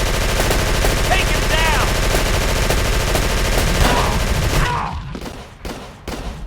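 Sustained machine-gun fire roars in Call of Cthulhu: Dark Corners of the Earth, a dense continuous burst that gives way to a few separate shots near the end, with a voice shouting over the gunfire.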